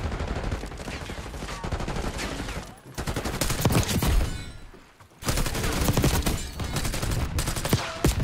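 Rapid bursts of Jakal PDW submachine gun fire in Call of Duty Black Ops 6, loud and close, in sustained rattling volleys broken by brief pauses.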